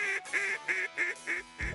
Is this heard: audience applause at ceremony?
no